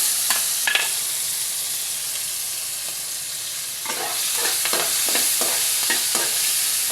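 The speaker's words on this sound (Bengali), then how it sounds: "এখানে একটু আলু, পেঁয়াজ, কাঁচামরিচ কেটে রেখেছিলাম, এটা দিয়ে দিলাম" Potatoes, onions and green chilies sizzle steadily in hot oil in a pan while a utensil stirs them, with a run of scraping strokes near the end.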